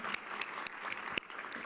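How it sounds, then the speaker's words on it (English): Audience applause fills a luncheon room, a steady wash of many hands clapping with no talk over it. "another big round of applause to thank One America Financial for their generous support"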